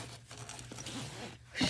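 A zipper is drawn around a makeup train case, giving short raspy ripping pulls close by, with a louder scrape at the end.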